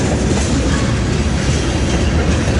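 A BNSF freight train rolls by on the rails at close range, a steady loud rumble with faint clattering from the cars and no voices.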